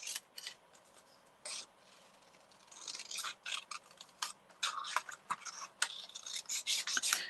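Scissors snip through card-making paper in quick, close bursts, with rapid crisp cuts that grow denser and louder partway through and nobody talking.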